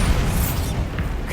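A Bombarda spell blast in Hogwarts Legacy gives a brief, loud, rumbling burst of noise with a muffled boom that fills the whole moment and fades only slightly.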